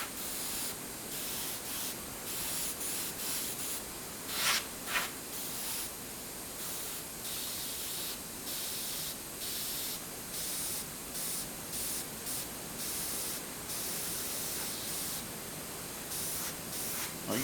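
Airbrush spraying paint onto a carved totem pole, a steady soft hiss in long continuous bursts with brief pauses, close and alone.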